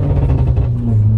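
An Audi S1 quattro with a stage 2 tune rumbles loudly nearby, a deep engine growl with a brief pitch shift as the exhaust note changes.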